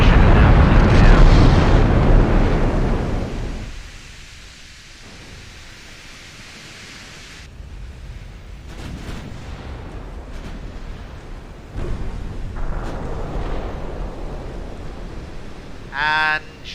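A torpedo strikes a battleship in the naval warfare game Ultimate Admiral: Dreadnoughts, letting out a loud, roaring explosion that rumbles and fades over several seconds, followed by quieter rumbling and a short burst near the end.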